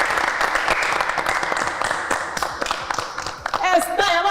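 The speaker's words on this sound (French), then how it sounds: "On applaudit pour eux." A crowd claps for influencers as they arrive on stage at a live show, a dense, continuous round of applause with a voice talking over it toward the end.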